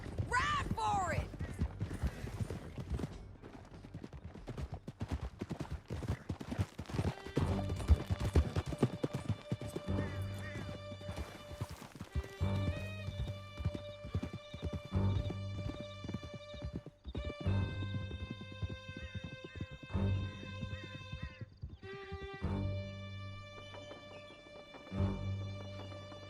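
Horses galloping in the video game Red Dead Redemption 2, a steady, rapid clip-clop of hooves running throughout with occasional whinnies, over a sustained music score and some shouted voices.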